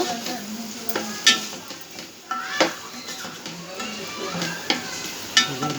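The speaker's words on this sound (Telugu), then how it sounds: "ఉల్లిపాయలు పచ్చిమిర్చి ఇలా వేపుతున్నాం అన్నమాట" Onions and green chillies frying in a pan, a continuous sizzle broken by repeated sharp scrapes and clinks of a spoon against the pan at an uneven rhythm, moderately loud and close.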